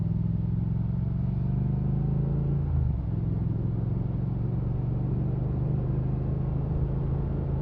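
A 2019 Triumph Speed Twin parallel-twin motorcycle rumbles loud and steady on a test ride, a deep continuous engine drone with wind noise and one brief dip around a gear change, no talking.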